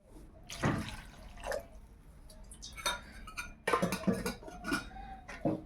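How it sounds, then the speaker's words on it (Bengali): Water is poured into a pan of spiced tangra fish and taro being cooked, with splashing and dripping, a clink of utensils against the pan, and quiet kitchen sounds between the bursts. "এবার আমি জল দিব আর একটু জল দেবো"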